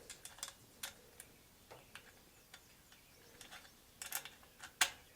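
A bolt is fastened back into an Alpha X 33 bow with a ratcheting tool, giving faint, irregular mechanical ticks and clicks, ending in one sharper click.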